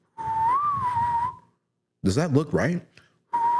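A person with a misaligned jaw whistles a sustained, wavering tune up close, then briefly talks before the whistling starts up again.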